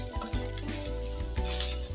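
Cabbage and beef spaghetti sizzling loudly in a pan while being stir-fried, a continuous close hiss and crackle with a few scraping stirring strokes.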